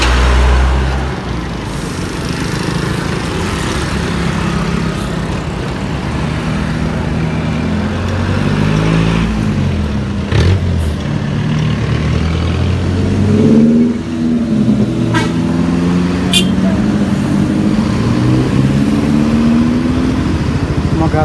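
An MPM intercity bus pulls away hard on a road in West Sumatra, bound for Solok and Bukittinggi, its engine note rising loud and steady as it accelerates, with passing traffic sounds mixed in.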